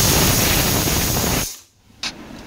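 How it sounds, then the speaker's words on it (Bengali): A pressure cooker boiling taro on a kitchen stove vents with a loud, steady steam hiss that cuts off abruptly, followed by a short sharp puff of steam. "ফাইনালি 3টে সিটি মারা হয়ে গেছে।"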